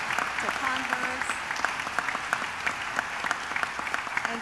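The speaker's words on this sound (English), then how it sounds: "let's actually have a round of applause for just a moment for everyone here" Audience applause at a college presidential inauguration ceremony: sustained, even crowd clapping filling a large room, with some sharper nearby claps and faint voices underneath.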